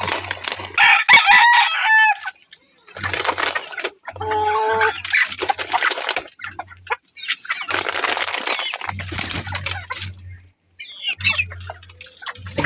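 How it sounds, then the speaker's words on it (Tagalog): Chickens cluck and a rooster crows loudly nearby, in repeated bursts separated by brief pauses, with some background commotion. "magandang tignan ang manok na to"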